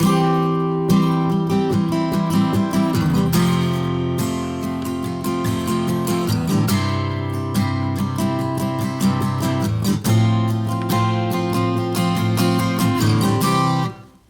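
Strummed guitar slash chords, including F over A, ring out steadily for about fourteen seconds, with an ascending bass line moving beneath them, then cut off abruptly at the end.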